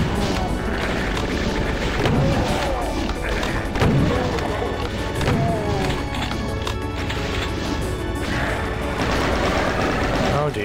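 A chaingunner enemy fires its chaingun in a busy first-person shooter, rapid gunfire bursts and thuds buried in a dense, loud mix of game music and effects throughout.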